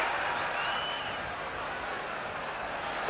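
A football stadium crowd at an Israel v England match gives off a steady, dense roar that holds at an even level throughout, with a voice faintly present over it.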